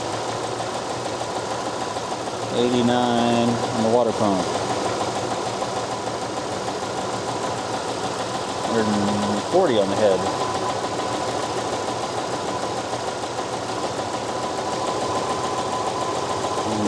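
A 1976 Chevrolet C10 engine idles after a cold start following a coolant flush, giving a steady, continuous low rumble while someone talks over it in short bursts.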